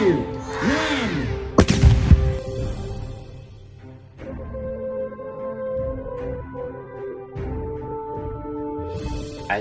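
A ceremonial cannon fires once with a sharp heavy boom at a school event, followed by a lingering rumble and echo while crowd noise and cheering carry on in the background.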